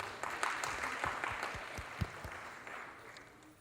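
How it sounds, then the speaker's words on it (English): An audience applauds at a Rangapravesam dance debut: a faint, steady wash of many hands clapping, with a few sharper claps standing out, heard from some distance and sustained throughout. "Let's give yourselves a big round of applause."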